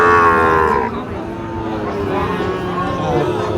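Sahiwal cattle at a busy village cattle market in Dinajpur let out long, loud, close moos, one after another, while a person talks over the livestock noise.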